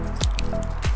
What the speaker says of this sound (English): got all the seams kind of mashed together to make sure that there's no leak areas